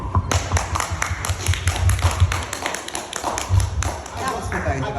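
Applause for poker players at a PartyPoker event fills the room as steady, dense clapping from a crowd, with voices mixed in underneath.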